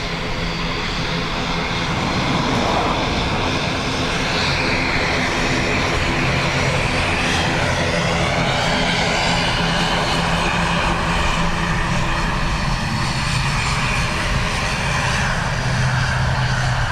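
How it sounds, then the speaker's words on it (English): ATR turboprop airliner at Dublin Airport, heard close and very loud: a continuous heavy propeller and engine roar with a steady droning hum and gently shifting pitch, with no talking. "Microphone will now be facing the ATR, so prepare for loudness."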